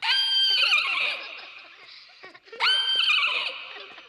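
A voice imitates a horse neighing: two loud, shrill whinnies close by, the first long and wavering, the second shorter after a brief pause.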